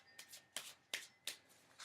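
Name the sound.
shuffling large oracle cards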